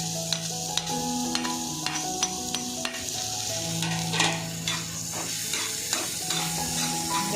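Onion frying and sizzling in hot oil with cumin seeds, stirred with a spatula, in a Maharashtrian egg-on-onion dish; steady close sizzle with frequent sharp scrapes and clinks of the utensil against the pan.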